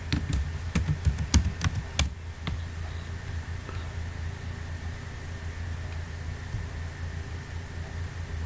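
A computer keyboard is typed on while working in Excel, giving a few quick, sharp key taps at the start. A low, steady hum and hiss fill the rest.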